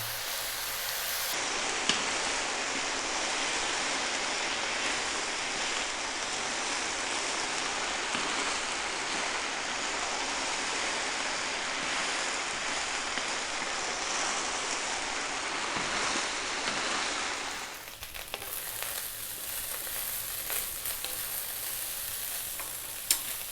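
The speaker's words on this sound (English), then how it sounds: "we're going to fry this rice for 5 minutes. Nice high heat." Mushroom fried rice with oyster, shiitake and shimeji mushrooms fries on high heat, giving a loud, steady, close sizzle that runs unbroken for most of the clip before a quieter, changed hiss at the end.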